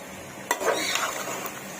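Boiled, tenderized beef tipped into a pot of spiced packet masala for beef biryani, a brief clatter and scrape of metal followed by stirring and soft sizzling.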